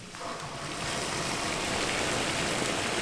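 Gravity-fed water flowing down a hillside through pipes at an off-grid wilderness homestead, a steady broadband rushing that builds slightly and then holds, with no voices.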